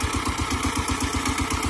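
A Kentavr walk-behind tractor engine runs close by with a fast, even chugging pulse, revving slightly under light throttle as it works a field ploughing in mustard.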